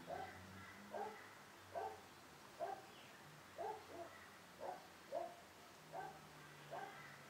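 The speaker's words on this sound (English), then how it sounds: "The dogs in the neighborhood are having a party" Dogs barking in the distance, a steady series of about ten faint, evenly spaced barks against a quiet background.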